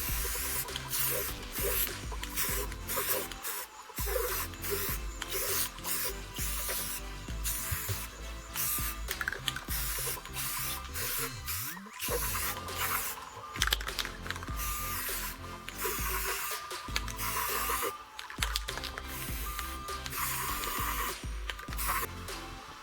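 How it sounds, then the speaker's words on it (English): A wheel rim being spray painted with a medium wet colour coat over primer: long, continuous hissing spray bursts separated by short pauses, close and fairly loud, with no talk. "My second color coat is a medium wet spray."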